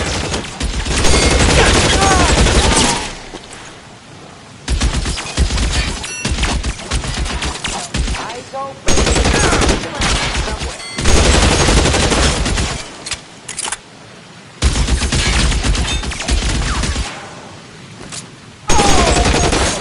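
Video game L.A. Noire shootout: bursts of rapid gunfire and heavy booms come in loud clusters separated by short lulls, with occasional voices mixed in.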